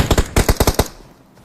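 Rapid bursts of automatic gunfire from the battle royale game BGMI, several sharp close shots in two quick volleys, then fading into quiet.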